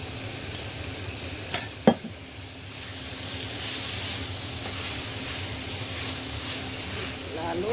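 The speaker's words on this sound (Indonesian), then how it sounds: "Ini aku tumis dulu 1 menitan ya dagingnya" Beef being sautéed in a pan for Indonesian gulai gives a steady, moderately close sizzle with a few stirring scrapes and clinks early on, continuing without talk.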